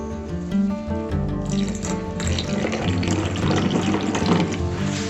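Water pours into a bowl of cashews set to soak, a steady splashing fill with a bubbling tone, loud and close.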